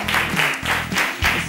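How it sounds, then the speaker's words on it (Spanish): Studio audience at a Spanish variety television show clapping in short bursts with a rhythmic pulse, loud and close, with no talk over it. "me dan un aplauso de calor"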